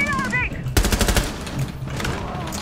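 Rapid automatic gunfire from the game Rainbow Six Siege on the Consulate map, loud and close, bursts of shots after a short sharp opening with chatter-like voices over the game audio.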